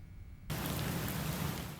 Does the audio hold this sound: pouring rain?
yes